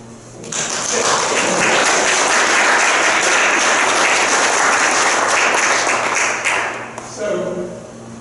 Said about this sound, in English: I just want to ask for a round of applause.